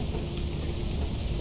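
A thunderstorm rumbles in the video game Lethal Company, with a dense rain hiss and low thunder rolling continuously at moderate loudness after a lightning strike.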